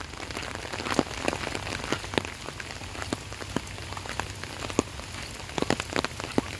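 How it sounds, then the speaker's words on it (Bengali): Heavy rain falls on a village in the morning. Dense, steady patter on the surrounding surfaces carries scattered sharper drops, with no one talking. "আর বৃষ্টিটাও আজকে একদম দারুণ বৃষ্টি হইতেছে।"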